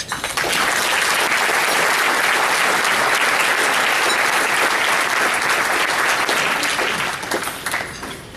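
Steady, full applause from a conference audience welcoming a speaker to the stage in Rochester, loud and continuous for several seconds before tapering slightly at the end.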